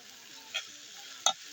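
Bitter gourd (karela) fries quietly in a pan under a soft, steady sizzle, broken by two brief stirring scrapes about half a second apart.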